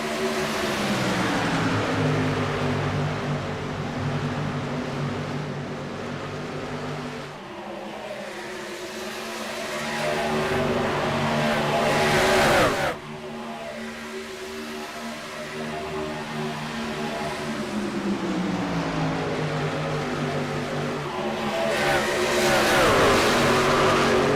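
Pack of NASCAR-style race trucks roaring around Chicagoland speedway, a loud continuous engine drone with rising and falling pitch as trucks pass, brief drops between passes, then building again.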